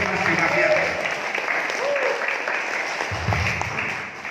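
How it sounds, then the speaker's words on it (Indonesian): An audience applauds for speaker Dima Akhyar, the clapping dense, continuous and close, with a few voices and cheers mixed into the steady wash of hands. "Monggo kita persilakan, tepuk tangan dulu untuk Mas Dima Ahya."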